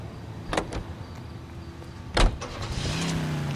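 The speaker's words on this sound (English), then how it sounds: "Let's drive the Buick." A 1938 Buick in an old-school video game gives two sharp door thumps a couple of seconds apart, then a low engine hum starts and holds steady, with no talking.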